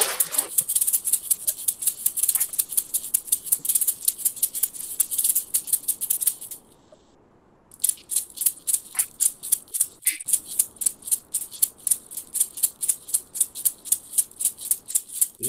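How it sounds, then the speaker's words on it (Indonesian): Maracas are shaken alone in a steady, rapid rhythm of crisp bright rattles, pausing briefly for about a second before the even shaking resumes. "The sound of maracas."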